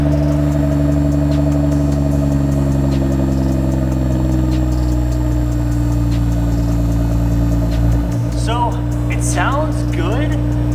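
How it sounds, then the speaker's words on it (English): A Nissan Skyline R33 GTR on its stock exhaust runs at a steady idle, a loud, even drone with low engine harmonics, and a voice talks near the end. "Let's go ahead and check out the stock exhaust and get some sound notes"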